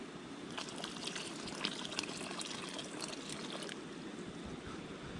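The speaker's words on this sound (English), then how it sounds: "I gotta throw in the water and make the peas and go down now." Water pours steadily into a cooking pot by a riverside, a continuous splashing rush lasting several seconds with no talking.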